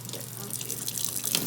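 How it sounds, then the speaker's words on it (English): A kitchen tap runs into a sink to wet items before they are coated in sugar, a continuous splashing gush of water that persists, with no talking. "So we need to get them wet with water."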